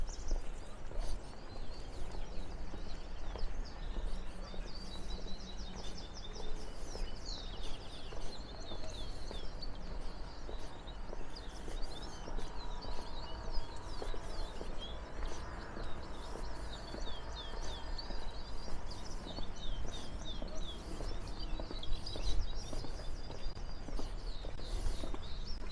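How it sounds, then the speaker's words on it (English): Outdoor ambience on a levada walk in Madeira, full of small birds chirping and twittering continuously at moderate distance, with occasional footsteps or hoof-like clops underneath. "You don't always hear a lot of birds"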